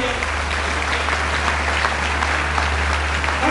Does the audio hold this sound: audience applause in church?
yes